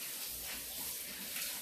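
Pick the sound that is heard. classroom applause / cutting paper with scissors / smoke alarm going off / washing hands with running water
washing hands with running water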